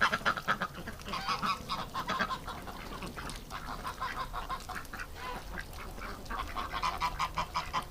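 Ducks and geese honk and quack continuously as a busy outdoor flock in winter, loud and overlapping with no pauses.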